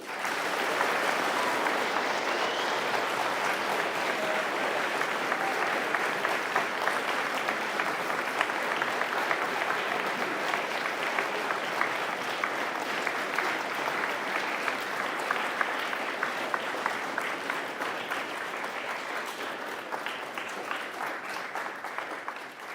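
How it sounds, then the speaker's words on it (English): Sustained applause from a large audience at a Winter Raptor VII awards ceremony, honoring the event organizers; dense, steady clapping continues at an even level for the full stretch with no speech over it. "Let's get a massive round of applause for these gentlemen."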